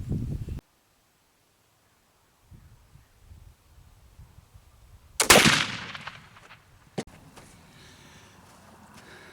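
A muzzleloading gun loaded with homemade sycamore and osage black powder and a patched ball fires outdoors in one loud, sharp blast with a brief echoing tail, followed by a smaller crack, over faint wind and rustle.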